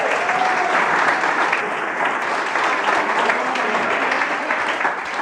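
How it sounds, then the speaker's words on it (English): Audience applause at a wedding toast, a steady dense wash of clapping that holds at even loudness throughout. "Give her a round of applause."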